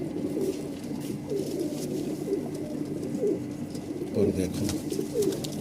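Madrasi pigeons coo in repeated soft, throaty phrases, about one every second, close by, with someone briefly speaking over them.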